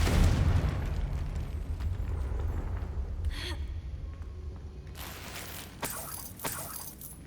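The Confringo spell goes off in a Harry Potter video game with a deep booming blast that rumbles and fades. A few sharper crackles and bursts follow.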